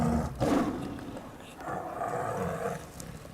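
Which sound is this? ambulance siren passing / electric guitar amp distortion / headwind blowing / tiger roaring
tiger roaring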